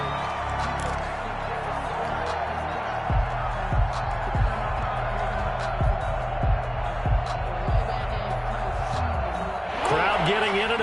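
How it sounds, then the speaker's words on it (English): Stadium crowd in a football video game, a broad sustained roar of noise with rhythmic thumping beats building underneath, while a commentator-style voice talks over it. "Crowd getting in it a bit already."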